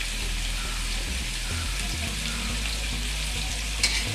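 Onions fry in a pan for an aloo dum curry and are stirred to brown them, with a continuous loud sizzle and the scrape of the spoon in irregular strokes. No one speaks.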